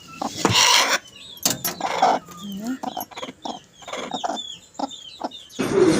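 A mother hen gives short, repeated clucks from a cage holding newly hatched small native-breed chicks, while the chicks cheep in quick high peeps between her calls, close by and fairly loud, with pauses in between.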